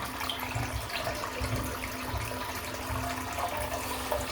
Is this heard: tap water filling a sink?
yes